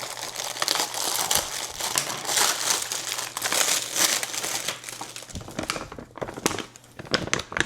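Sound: opening a parcel, crinkling plastic packaging

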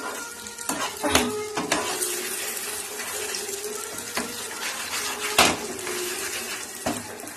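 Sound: stirring food in a pan

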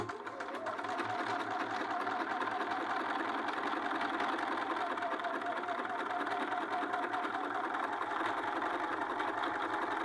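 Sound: sewing machine stitching a sleeve seam

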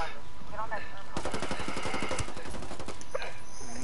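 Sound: gunfire in Ghost Recon Wildlands Ghost War video game

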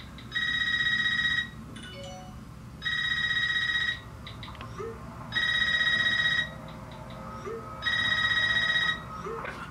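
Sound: telephone ringing in Scream movie trailer

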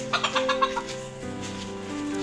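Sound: chickens clucking

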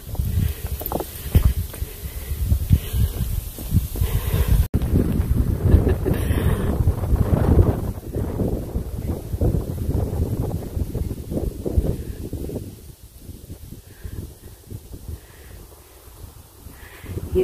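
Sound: wind

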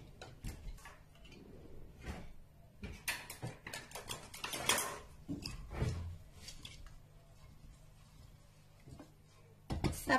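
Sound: stirring harbel porridge in a cooking pot

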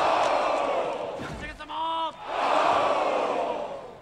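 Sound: guards cheering in the TV show Shogun

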